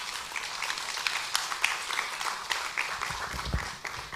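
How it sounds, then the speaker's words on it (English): Applause from an audience after a presentation of the State of the Ghanaian Media report, a steady wash of many hands clapping at moderate distance, fairly even in level for the whole stretch with no voices over it. "let's give her another round of applause"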